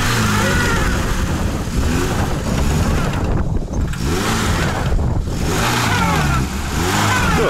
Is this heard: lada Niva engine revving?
yes